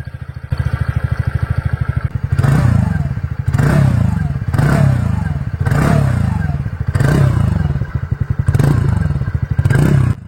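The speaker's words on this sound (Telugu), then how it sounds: "విన్నారు కదా exhaust note and engine sound ఎలా ఉందో" A TVS Ntorq 125 XT scooter with an air-cooled engine and CVT drive idles, then revs loudly again and again. Close, rhythmic blips rise and fall roughly every second over a throbbing exhaust note.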